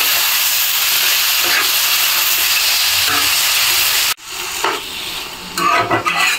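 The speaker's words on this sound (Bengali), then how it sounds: "তেঁতুলগুলো দিয়ে দিব। তেঁতুলটা মশলার সঙ্গে মিশিয়ে নিব।" Tamarind frying in oil with spices for a sweet-and-sour pickle, a loud, steady sizzle and hiss that drops briefly, then resumes with spatula stirring scrapes, close up and without speech.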